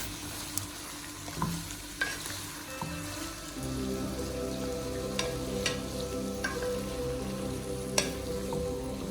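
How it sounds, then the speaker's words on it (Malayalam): Marinated chicken pieces fry and get stirred in hot coconut oil in a pan, a steady close sizzle with scraping stir strokes and small pops throughout. "വെളിച്ചെണ്ണ ഒഴിച്ചതിന് ശേഷം നമ്മൾ മാരിനേറ്റ് ചെയ്ത് മാറ്റി വെച്ചിരിക്കുന്ന ചിക്കൻ പീസസ് ഇതിലേക്കിട്ട് കുറച്ച് നേരം ഇളക്കി മൂടി വയ്ക്കണം"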